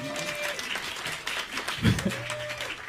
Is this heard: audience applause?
yes